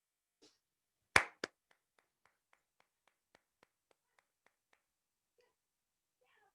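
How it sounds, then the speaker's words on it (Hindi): A few loud hand claps at a stage event welcoming a speaker, followed by a steady sparse run of faint single claps, with no full crowd applause swelling. "तो जोरदार तालियों से स्वागत करते हैं"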